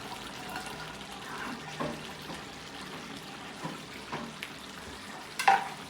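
Fried rice with green peas is stirred in a pan, soft spatula scrapes over a faint steady sizzle, with a few sharper scrapes near the end and no talking.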